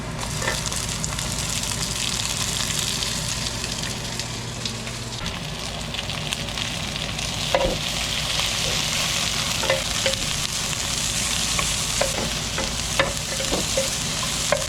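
Pork and onions sautéing in a little oil, a dense steady sizzle with frequent stirring scrapes and utensil clicks against the pan, close and continuous with no speech.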